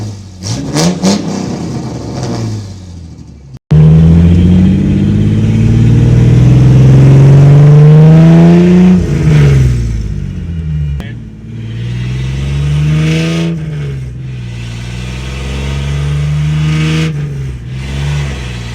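Supercharged 3800 V6 swapped into a Chevy S10 with a new exhaust system, close and loud, opening with sharp blips before it fires up into a sustained roar whose pitch climbs and falls through repeated revs.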